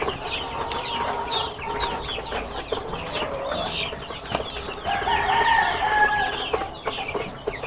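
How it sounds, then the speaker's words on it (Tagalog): Flock of chicks almost two months old peeping and clucking close by, a busy layered chorus of chirps and short clucks with a rooster-like call rising briefly; no talking. "ito yung mga sisiyo natin na hindi pa to 2 buwan pero almost 2 months na to"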